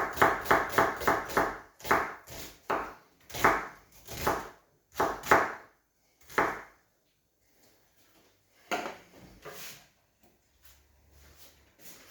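A vegetable slicer cuts vegetables for an eel fish soup in quick, sharp, close strokes, rapid at first and then spaced out, before stopping and leaving a few faint handling sounds.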